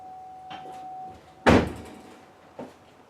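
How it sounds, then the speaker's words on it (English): A car door on a Chevy Traverse under DIY rear brake repair swings shut with one loud, close thump, preceded by faint handling noises and followed by a softer knock. "Gotta close that door though."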